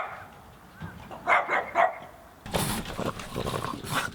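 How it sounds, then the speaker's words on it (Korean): Small puppies barking excitedly as they run toward a person, a quick burst of yips followed by a denser cluster of barks, close and fairly loud. "간밤에 봤던 강아지들이 한준 씨를 보고 반갑게 달려듭니다"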